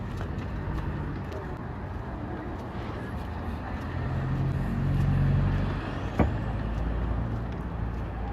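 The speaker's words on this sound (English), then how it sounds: "The silver car drove right when I stepped on the street, and it's driving by at the center of the street" A silver car drives by along the center of a city street, its engine and tire noise swelling and fading amid steady traffic rumble, with a brief sharp knock near the end.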